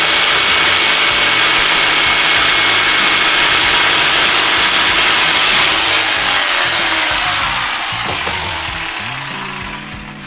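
A power saw cuts wood to size during a room renovation: a loud, steady, close whine with broadband roar that runs continuously before easing off and fading slightly toward the end.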